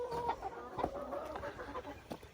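Several chickens cluck and murmur nearby in a quick, uneven rhythm, with low background noise.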